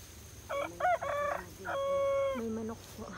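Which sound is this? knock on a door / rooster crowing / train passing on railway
rooster crowing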